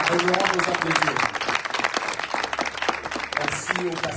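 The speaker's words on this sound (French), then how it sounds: "Je vous prie de pouvoir aussi l'applaudir pour l'honorer." Church congregation breaks into sustained applause, many hands clapping densely and loudly with some voices heard in the crowd.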